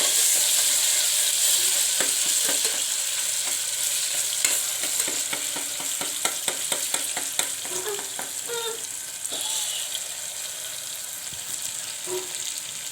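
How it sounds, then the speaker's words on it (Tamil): Ginger garlic paste fries in a pan for a mutton green masala gravy, throwing off a loud, steady hiss and sputter, with a burst of quick scraping stir strokes in the middle before the sizzle settles. "நல்லா ஃப்ரை பண்ணிக்கோங்க இஞ்சி பூண்டு பேஸ்ட்டை"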